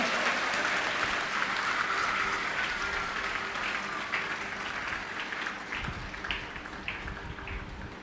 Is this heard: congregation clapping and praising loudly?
yes